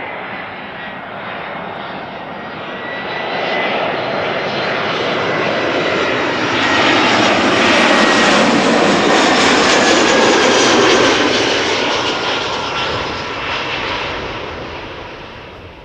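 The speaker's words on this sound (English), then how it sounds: "next up EasyJet, flight 22515 arriving from London Luton, A319" EasyJet Airbus A319 jet arriving at Schiphol from London Luton, a broadband engine roar that swells steadily as it passes close by, peaks mid-clip and then slowly fades, with no voices over it.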